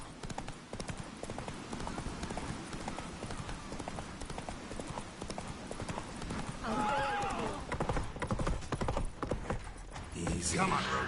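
Roach the horse from The Witcher 3 gallops with steady, rapid hoofbeats, then lets out a loud whinny near the middle, while game voices and music carry on throughout.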